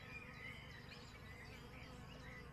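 A dense, steady buzzing of many honeybees entering a hive, close by and continuous, with no voices over it.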